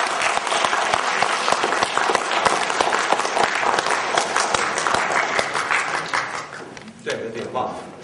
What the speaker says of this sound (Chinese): 希望大家能喜欢，给他们以掌声